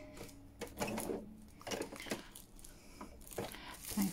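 A sewing machine stitches fabric and tissue paper for a junk journal cover topper in short rapid bursts separated by pauses, close and moderately quiet, with paper rustling between runs.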